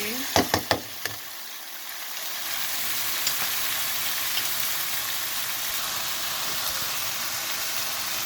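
Green and orange vegetables frying in a pan, with a few sharp knocks of a utensil at the start and then a steady, close hiss of sizzling that continues evenly throughout.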